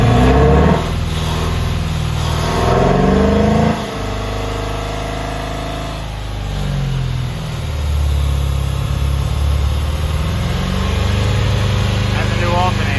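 A 2005 Ford Mustang GT with a 4.6 liter engine, 91,000 miles, no air intake and a new alternator, runs loud and close, idling steadily with a couple of revs rising and falling through the middle.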